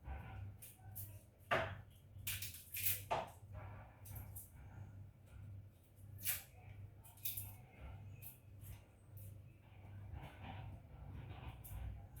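Knife chopping onion and scallion on a board for Jamaican-style curry chicken, a few sharp scattered cuts with pauses between, fairly faint over steady low background hum.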